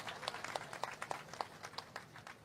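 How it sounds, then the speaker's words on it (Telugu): Scattered, faint clapping from a public gathering congratulating four village sarpanches at a Swachh Andhra – Swarna Andhra program, with individual claps audible as a thin, uneven patter that fades toward the end. "మీరు కూడా చప్పట్లు కొట్టి అభినందించాలి"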